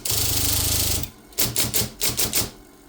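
An IBM Selectric typewriter running on a battery-powered motor hums loudly and steadily, then the motor cuts off and a burst of about six rapid, sharp mechanical clacks follows close up.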